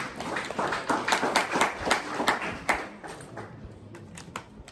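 Applause for contestants at a basic schools science and mathematics quiz final, with a small audience clapping in scattered, uneven bursts that thin out and fade toward the end.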